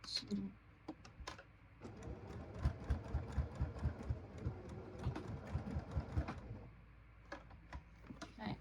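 A sewing machine stitches fabric to extend a dress, running in a few seconds of rapid, rhythmic mechanical chatter, faint and close, with scattered clicks before and after.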